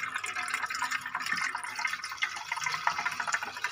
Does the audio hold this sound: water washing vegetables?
yes